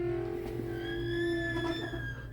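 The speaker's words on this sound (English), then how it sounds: "it is a red door and it makes a creepy sound like this." An old red door at Bushwakker Brewpub in Saskatchewan creaking open slowly, a long tonal groan that wavers and rises in pitch, close and fairly quiet, with no talking.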